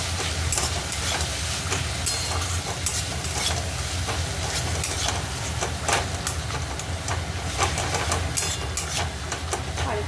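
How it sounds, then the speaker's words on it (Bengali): Ginger paste, garlic paste, turmeric, chilli and cumin powder are stirred and fried in hot oil for an egg curry, giving a steady close sizzle with repeated scraping of the spoon against the pan, and no voices. "এবার দিয়ে মশলাটাকে ভালো করে কষবো"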